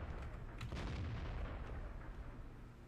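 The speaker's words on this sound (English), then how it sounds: "Artillery just pegged me for 900." Artillery shell striking a tank in the World of Tanks video game, a heavy, sustained boom with deep rumbling that swells and slowly fades over a few seconds.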